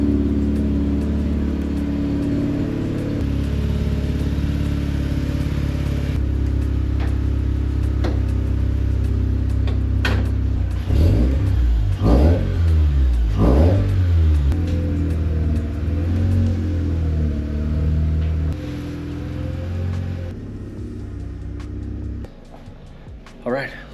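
Mazda RX8 rotary engine running steadily, then revving in a few rising bursts near the middle before settling back to idle, with a steady low engine hum throughout and a voice talking over it.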